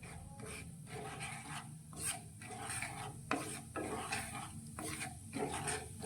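Steady sizzling and scraping of ajwain, cinnamon and cloves stirred in a hot pan over a medium gas flame, with repeated spoon strokes against the metal at close range.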